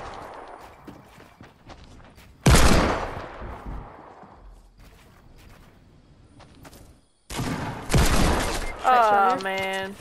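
Bursts of video-game gunfire from a squad match rattle out in two loud clusters, one rapid volley and then another later, with short sharp shots and quieter gaps between, while players chatter.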